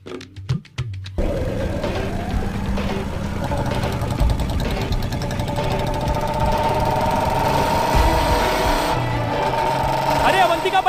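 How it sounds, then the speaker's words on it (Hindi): A cartoon motorbike engine runs fast, a loud continuous buzzing drone with a rising whine that holds steady throughout, after brief voices at the start. "बाइक थोड़ा धीरे चलाओ, नहीं तो यमराज के पास पहुंचने में हमें टाइम नहीं लगेगा।"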